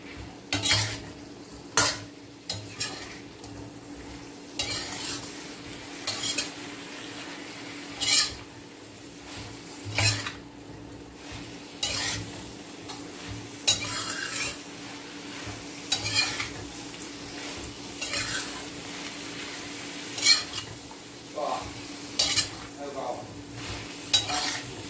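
Tempe fries in a pan with oil sizzling softly throughout while a utensil scrapes and clinks against the pan in irregular stirring strokes, close up and with no talk.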